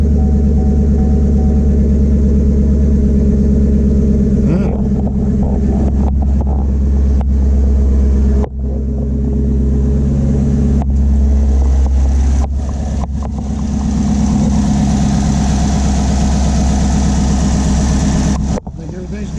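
A 2019 Chevrolet Camaro SS 6.2-litre V8 engine with a 10-speed automatic rumbles steadily at idle after revving, deep and continuous, with brief shifts in tone and a few clicks over the running motor.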